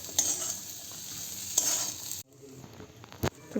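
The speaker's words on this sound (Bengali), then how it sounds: "এটা এখন ঢাকা চাপা দিয়ে কিছুক্ষণ ভাজতে দিয়ে দেবো।" Potatoes with green chilli and onion frying in a pan, a soft steady sizzle with a few sharp stirring clatters, fading after a lid is set on.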